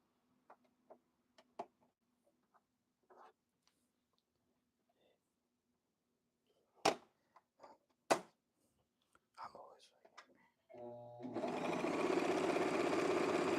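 A sewing machine working a chain stitch on a blazer starts after scattered quiet clicks, handling taps and faint murmured speech, then runs in a loud, steady, fast whir for the last few seconds.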